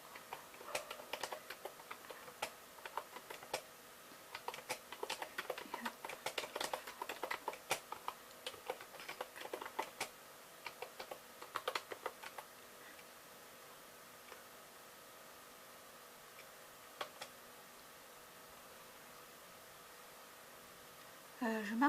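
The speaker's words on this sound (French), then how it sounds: "je suis en train d'écrire, je vois même pas ce que j'écris" Fingers tap on a computer keyboard in quick, irregular bursts of close, light clicks for about twelve seconds, then the room falls quiet apart from faint background hiss.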